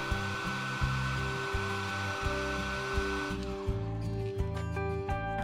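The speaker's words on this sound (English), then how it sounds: "use a hairdryer to heat the place where the speaker glued" A hair dryer runs steadily at close range, heating the adhesive under the speaker on an iPhone XR, its motor whine and airflow roar constant with a slight shift in tone partway through.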